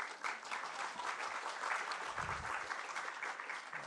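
A seminar audience in Rio claps throughout, a steady, close crowd of applause with no pauses.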